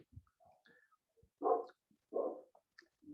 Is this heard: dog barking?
yes